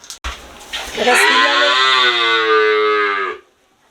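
A young calf at a cattle market lets out one long, loud, close moo of about two seconds, following a brief knock. Silence comes after it.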